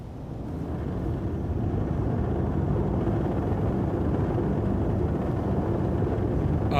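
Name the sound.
spaceship engines starting and launching, Star Citizen video game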